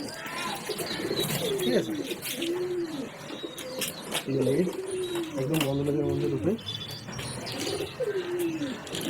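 A pigeon that has been kept in the sun without water coos close by in repeated rolling phrases. Someone talks over the cooing the whole time.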